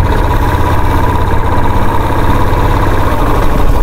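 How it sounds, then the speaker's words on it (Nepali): A Bajaj Dominar 250 motorcycle engine running loud and close, a continuous even rumbling drone with steady vibration and no voices. "डोमिनार 250 यसो चलाएको मजा आयो"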